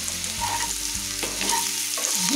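Chopped elephant foot yam and green chilies frying in a pan, a constant dense sizzle broken by short scraping stirs and knocks, close and loud with no voices.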